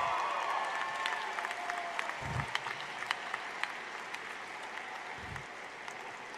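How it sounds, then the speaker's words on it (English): Audience applause at a 2018 graduation ceremony, a steady wash of many hands clapping throughout, with a couple of low thumps breaking through. "Round of applause."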